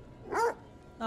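A dog in The Devil in Me video game gives two short barks, the first a rising and falling bow-wow, the second cut off at the end, close and fairly loud over a quiet backdrop.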